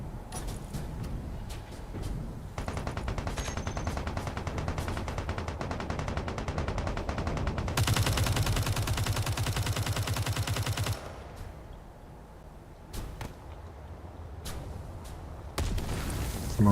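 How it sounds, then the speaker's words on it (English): Heavy artillery fire in the space game Space Engineers, a dense run of loud, rapid booming shots with a sustained, fiercer burst midway, then quieter scattered blasts. "some artillery being fired"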